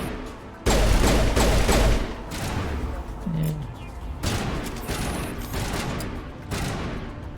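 Shotgun fire in the video game Mass Effect Legendary: a few heavy, booming blasts with long rumbling tails, spaced a couple of seconds apart, loud and close, with game ambience between shots.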